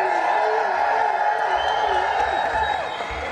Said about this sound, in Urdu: ذرا اور زور سے تالیاں بجائیں